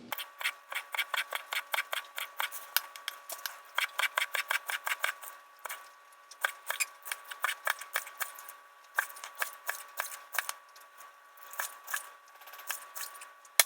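Knife chopping green onions into small pieces on a board, a long run of quick, crisp rhythmic cuts in bursts with short pauses, close and clear.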